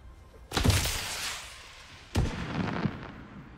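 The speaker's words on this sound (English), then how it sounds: "I do like fireworks." Two sharp fireworks blasts burst in God of War: Ragnarok, each a sudden loud crack followed by a crackling, fading rumble, spaced about a second and a half apart.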